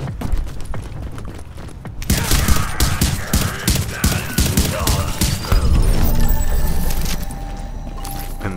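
Sustained gunfire in The Division as a turret is taken down, rapid loud bursts and heavy thuds after a brief lull, with a person talking over parts of the barrage.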